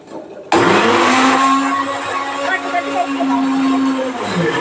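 A blender starts abruptly and runs loudly and steadily, whirring through green chilli pickle ingredients, with a slight pitch sag as the load shifts. It runs close and alone for several seconds.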